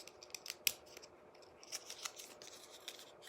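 Scissors snipping through craft material for a glittery stuffed ornament, a quick series of close, crisp cuts with short pauses between, quiet and alone.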